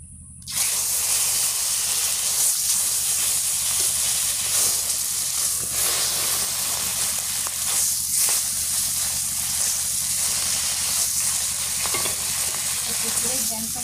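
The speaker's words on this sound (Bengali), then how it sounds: "এই যে মাছটা ভেজে নিব।" Fish rubbed with salt and turmeric frying in hot oil gives a loud, continuous close-up sizzle and hiss with crackling spatters, starting abruptly and holding steady throughout.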